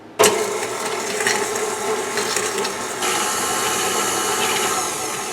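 An electric mixer creams a stick of butter with sugar, switching on abruptly to a loud, steady mechanical whir with a rattling, gear-like texture that steps up slightly in intensity midway and keeps running.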